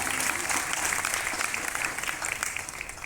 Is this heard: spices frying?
no